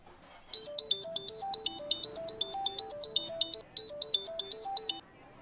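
A melodic phone ringtone for an incoming call plays loudly and alone, with a rapid repeating run of bright electronic notes that keeps cycling for several seconds.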